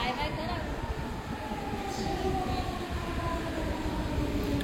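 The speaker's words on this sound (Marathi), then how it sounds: "पोंगाडी ट्रेन आली ती बघ" A train arrives, rumbling steadily past at close range, a continuous low roar with faint metallic squeal and background voices.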